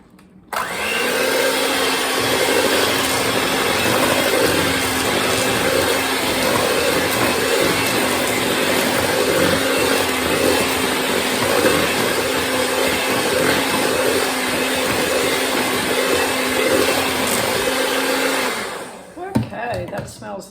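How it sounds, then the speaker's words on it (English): An electric mixer whirs loudly and continuously through peanut butter oatmeal cookie dough, a steady close motor hum that runs for most of the stretch before cutting off near the end. "So I'm going to mix that up now well with the mixer"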